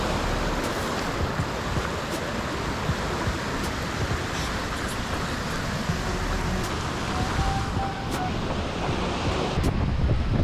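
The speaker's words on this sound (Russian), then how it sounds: "Горная речка, шум воды, это обалдеть!" A mountain river in the Khibiny mountains rushes with a steady, loud, unbroken roar of water, mixed with gusty wind noise on the microphone and no speech.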